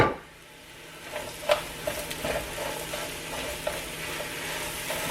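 A chicken fajita mix fries in a pan with a soft sizzle. Intermittent scraping stirs and clicks of a utensil against the pan sit close and clear above it.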